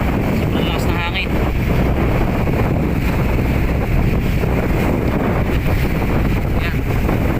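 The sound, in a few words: strong wind and waves on a fishing boat at sea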